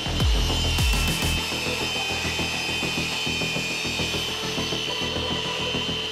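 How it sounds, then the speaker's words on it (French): A table saw cuts a wooden lath at a mitre angle, a loud steady whine of the blade through the wood that carries on without a break, with a couple of sharp knocks near the start. "Pour réaliser cet onglet, nous utilisons la scie sous table."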